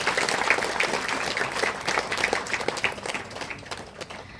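An audience at a nursing school graduation ceremony gives a burst of loud applause, dense clapping that swells and then tapers off toward the end.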